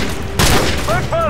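A single loud sniper rifle shot in Call of Duty 4: Modern Warfare cracks out close and sharp, then fades under a short spoken exclamation.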